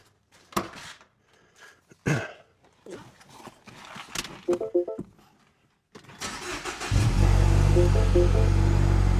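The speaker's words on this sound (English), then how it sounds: "let's go ahead and jump into Pepper here and make sure that she fires up properly" 2007 to 2015 MINI Cooper R56 engine cranks and fires up after a battery replacement, preceded by door and cabin clunks, then settles into a loud, steady idle close by.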